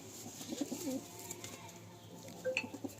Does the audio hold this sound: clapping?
no